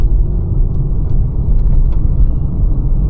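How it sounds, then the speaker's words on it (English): A low-mileage 1999 Volkswagen Golf accelerating gently on a residential street, heard from inside the cabin as a loud, steady engine drone and road rumble with no voices. "Give it a little bit of gas."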